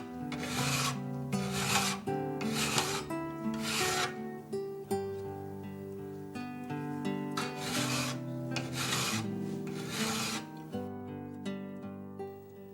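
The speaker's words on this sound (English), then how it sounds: "Now file the top with smooth, straight strokes until you can feel a slight burr on the edge." A fine mill file is drawn across the top edge of a steel scraper in a woodworking shop, making about ten smooth, even rasping strokes, each about a second long, close and steady over a sustained tonal background.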